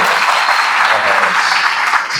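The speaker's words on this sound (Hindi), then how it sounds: "उनके लिए एक बार जोर से ताली बजाइए" Loud, dense applause from an audience at a Brahma Kumaris positive-thinking talk held at a hospital and college in Prayagraj, a steady wash of many hands clapping throughout with no pauses.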